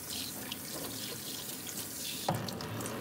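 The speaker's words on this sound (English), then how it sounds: "putting the water on him and just spraying water on him any kind of way" Water from a hose or tap sprays steadily while a dog is bathed, a continuous close hiss and splash with a brief knock near the end.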